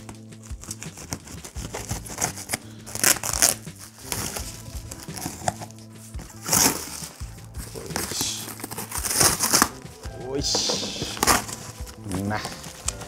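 A package being unboxed, with repeated crinkling and rustling of wrapping and cardboard in uneven bursts, some louder crunches, close and moderately loud.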